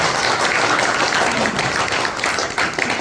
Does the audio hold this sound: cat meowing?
no